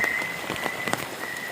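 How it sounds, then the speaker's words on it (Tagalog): Steady rain patters on a surface close by, a dense continuous hiss with scattered heavier drops and no voices. "Wa man gud sad ko nagdahom nga mag-ulan."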